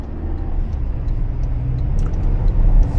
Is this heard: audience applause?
no